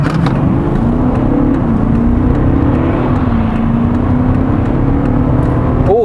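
A Volkswagen Touareg V8 TDI diesel SUV launches hard from a standstill to 100 km/h, a loud, steady, deep engine drone with rising pitch filling the cabin, with no talking over it.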